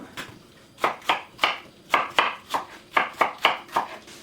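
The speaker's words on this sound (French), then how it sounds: "je les coupe comme ça, dans des tranches pas plus épaisses que ça, pas plus fines non plus" Knife slicing apples into even pieces for a tarte tatin, a series of about ten crisp, separate cuts in an uneven rhythm, close and clear with no talking.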